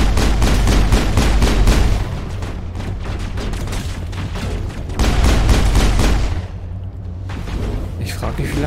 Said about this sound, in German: Sorry, Shepard, aber es gibt keinen Preis für die meisten Schüsse